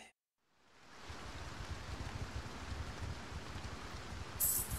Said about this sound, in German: Es regnet wieder.